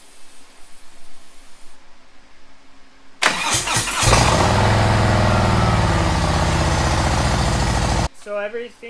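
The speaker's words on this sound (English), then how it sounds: "I'm just gonna go ahead and fire the bike up" A Harley-Davidson motorcycle engine cranks and catches around three seconds in, then settles into a loud, steady idle before cutting off; quiet talk is heard before and after.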